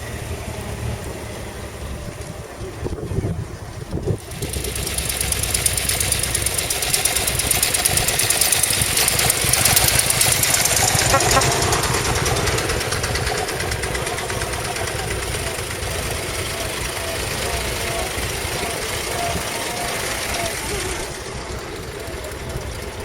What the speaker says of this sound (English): we have a parade of Model Ts